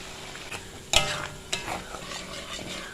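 Ground chili paste being stirred in hot oil in a wok for nasi lemak sambal, with a few sharp scraping clacks of the spatula over a soft, low frying sizzle, close and fairly quiet.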